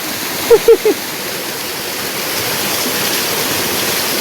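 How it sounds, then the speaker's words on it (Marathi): A waterfall roars steadily and close by, a constant rushing wash of water, with a few short sounds near the start. "काय मस्त धबधबा आहे"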